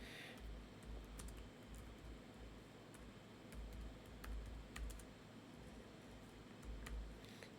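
A computer keyboard is typed on at close range, quiet scattered keystrokes with short pauses, including Shift+Enter presses, over a faint background hiss.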